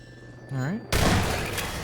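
Automated turrets in the video game Half-Life 2 open fire in a sudden loud, dense burst of gunfire that carries on steadily to the end, after a brief spoken voice.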